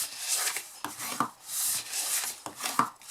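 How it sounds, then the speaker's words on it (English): Paper votive box sides being folded and burnished, with soft scraping rubs and short creasing swipes in an irregular rhythm, close and quiet, no talking. "Then we are folding and burnishing them."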